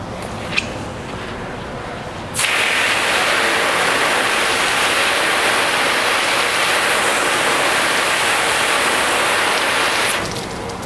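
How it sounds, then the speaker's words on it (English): Water hisses steadily from a spray onto a waxed car panel, a loud, continuous rain-like rush that starts abruptly and stops just as suddenly after about eight seconds. "put some water on the panel and see how we did."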